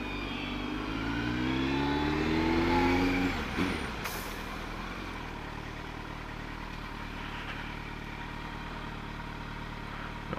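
A large bus eases by on a wet road, its low engine tone rising and then falling away, with a sharp air-brake hiss about midway and a steady rush of rain-soaked traffic and wind noise continuing afterward.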